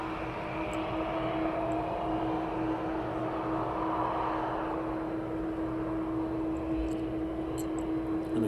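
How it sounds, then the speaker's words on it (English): An aircraft rolling down the runway at East Midlands Airport at sunset gives a steady, distant engine roar with a sustained tonal hum, holding an even level throughout with no voices. "The next aircraft is rolling"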